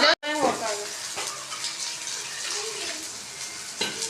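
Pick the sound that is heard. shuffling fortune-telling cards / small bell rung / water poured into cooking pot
water poured into cooking pot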